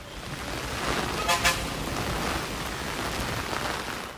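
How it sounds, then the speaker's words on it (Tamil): Heavy rain pours steadily over Cheyyar and its surroundings in Tamil Nadu, a dense, even hiss with a couple of slightly louder bursts midway and no voices. "செய்யாறு மற்றும் அதன் சுற்றுப்பகுதிகளிலும் கனமழை பெய்தது."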